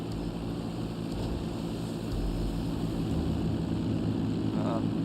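A helicopter flies steadily in the GTA Online video game, its constant low rotor and engine drone filling the scene at moderate loudness with no break.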